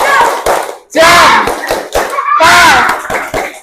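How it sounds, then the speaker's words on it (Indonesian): A classroom of students doing a thumb clap rhythm, with sharp, loud bursts of hand claps and thuds in quick patterned groups, broken by brief pauses and mixed with children's voices. "Ada tepuk jempol. Tepuk jempol."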